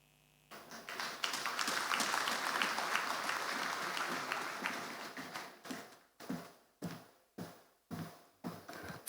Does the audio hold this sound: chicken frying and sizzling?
no